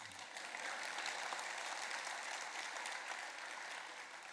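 Faint, distant applause from an audience at a Rotary Foundation address, an even wash of clapping lasting a few seconds.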